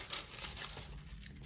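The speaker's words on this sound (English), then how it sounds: "Let me cut this tag out" Scissors snip and crinkle through a tag on a Sensationnel Butta lace wig unit, a close, steady rustling crunch lasting a moment with no talking.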